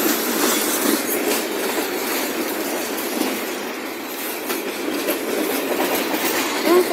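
A long Ferromex/KCSM freight train rolling past at close range, railroad cars clacking over the rail joints in a steady, loud, continuous rumble with no talk.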